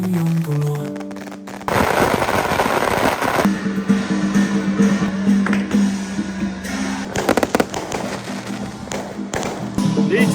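Firecrackers set off by households along a village route during a nighttime temple procession for a Buddha-welcoming festival in Dongshan, with dense crackling bursts and thuds continuing loudly through the clip amid crowd noise.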